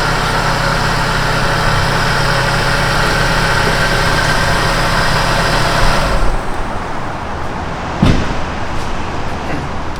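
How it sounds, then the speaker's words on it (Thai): Diesel engine of an Isuzu Dragon pickup truck idling steadily and evenly, a close, constant low rumble with a brief knock near the end. "ตอนนี้ก็สตาร์ทติด เสียงเครื่องเรียบมาก"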